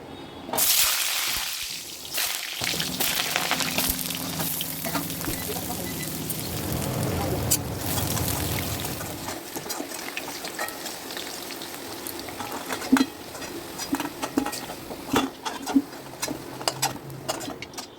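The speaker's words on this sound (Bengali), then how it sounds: "তেলটা বেশ গরম হয়ে গেছে এবারে আমি আলুগুলো ভেজে নেব" Potatoes fry in hot oil for aloo dum, a loud, close bubbling sizzle that rises sharply at the start, then settles into a fainter crackle with intermittent voices.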